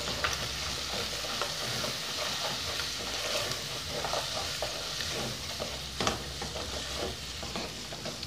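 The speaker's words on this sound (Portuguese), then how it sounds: "Então eu deixo essa cebola dar uma murchadinha aqui dentro." Chopped onion sautés in a hot pan for pasta sauce, giving a steady dense sizzle with scraping stirring strokes and occasional crackles throughout, close and continuous with no talking.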